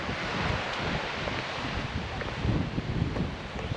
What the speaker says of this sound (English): it's so breezy and shaded here right now